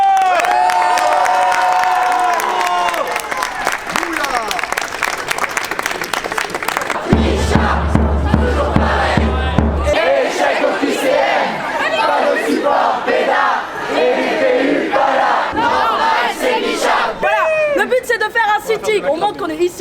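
Student protesters at a Paris demonstration shout, chant and cheer together, a dense crowd roar with rising cries and scattered clapping, while a voice speaks over the crowd at times.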